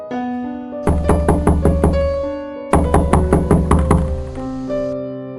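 Door knocking in the game Sakura School Simulator, two bursts of about six rapid, loud knocks each, separated by a pause and backed by a sustained musical tone.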